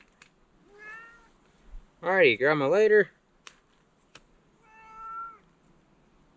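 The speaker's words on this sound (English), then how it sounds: "That meowing cat, that's my orange cat" An orange cat meows at a campsite: two drawn-out meows, one early and one late, separated by a loud burst of a man's speech and a couple of sharp clicks.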